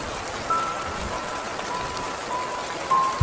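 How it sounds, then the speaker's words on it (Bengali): Heavy rain falling at night, a steady, dense hiss of drops pattering on surfaces with no pauses and no voices. "রাত হতে বৃষ্টির বেগ আরো বেড়েছে"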